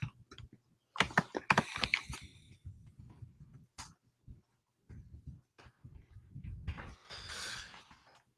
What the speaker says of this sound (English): I'm going to go type in Christian Bergman